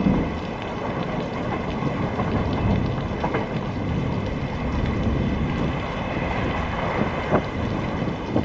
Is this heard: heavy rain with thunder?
yes